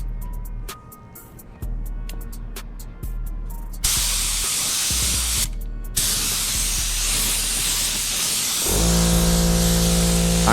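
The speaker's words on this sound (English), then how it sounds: "I like to spray close but fast. That's how I always achieve the wet look." Spray paint hissing from an aerosol can held close and moved fast, in long continuous bursts with brief pauses, loud and near, with a steady hum underneath toward the end.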